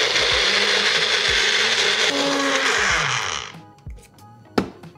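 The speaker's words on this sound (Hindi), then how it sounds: "न्यूट्री ब्लेंड में से ब्लेंड कर लेंगे." A Nutri Blend blender whirs loudly and steadily, blending paneer, lemon juice and milk, then cuts off after about three and a half seconds, followed by a couple of knocks and a sharp clunk of the jar.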